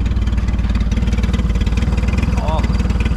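Homemade turbocharged Fiat 147 with a garage-welded exhaust, its engine running close and loud with a steady rapid pulsing exhaust beat throughout.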